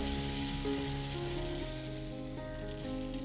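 A ginger and green chili paste fries in a pan with a steady, bright hiss, close and even, fading slightly toward the end, with no talking.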